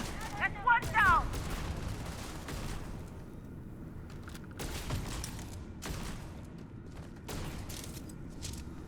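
Gunfire from a space combat game, a few sharp shots clustered near the start and scattered bursts later, mixed with game effects and a voice talking over the action.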